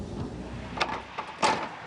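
A lorry door being shut: a few quick knocks and clunks ending in one firmer thud, close by, over a low background rumble.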